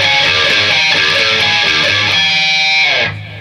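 A distorted electric guitar plays a riff, picking open E and fretted A-string notes with pinches and a slide. It rings loud, dense and sustained for about three seconds, then cuts off abruptly.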